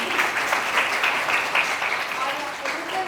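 Hall audience at a Sardar Vallabhbhai Patel birth anniversary event applauding someone's birthday, a dense continuous wash of many hands clapping, steady and fairly loud, with a voice faintly underneath.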